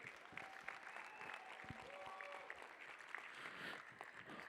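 Audience applause at a benefit auction honoring $10,000 donors, a steady broad wash of clapping held at moderate level for several seconds, with faint tonal sounds threaded through the crowd noise.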